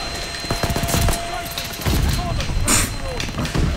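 Rapid video game gunfire from a 1911 pistol, a string of sharp pops and impacts mixed with other game noise, with a player talking over parts of it.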